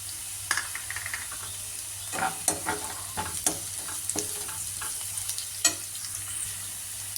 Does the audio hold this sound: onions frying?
yes